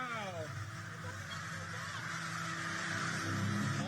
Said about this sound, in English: this is like a swarm of birds